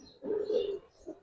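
A Kaldom Chuithal pigeon, a pet Giribaz-type bird, gives a soft, low, rolling coo that swells for about half a second, followed by a shorter second coo, close and clear with no talk.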